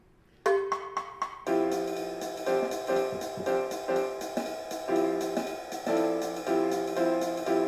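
A jazz tune plays on bass, opening with a few repeated stabbed notes, then a steady walking bass line with ensemble accompaniment, no talking.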